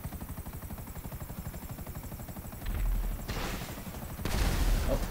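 Helicopter shot down by gunfire in GTA V online: a steady rapid stutter of automatic fire runs throughout, joined by two heavier low rumbling bursts as the aircraft is hit, loud and close.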